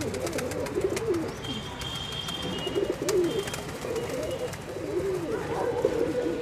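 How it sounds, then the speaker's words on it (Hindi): Dobaz pigeons coo repeatedly in soft, rolling phrases close by, with faint chirps and light background noise between the calls. "दोबाज कबूतर का बच्चा है ये।"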